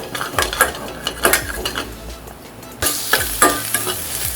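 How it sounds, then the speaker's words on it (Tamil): Masala being sautéed in a pan for egg bread upma: a steady sizzle of frying under repeated scraping and clinking of a spoon against the pan, close and loud, with no voices. "நல்லா இப்படி வதக்கி விடுங்க."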